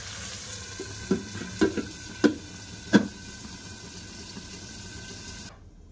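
Marinated lote fish (Bombay duck) fries in a pan, a steady sizzle with four sharp clacks of a utensil against the pan, ending in abrupt silence.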